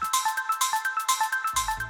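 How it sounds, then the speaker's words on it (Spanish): A bright notification bell chime rings in a quick repeating pattern of about a dozen clear metallic dings, loud and close, with a low tone entering near the end and no talking. "activar la campanita para recibir notificaciones"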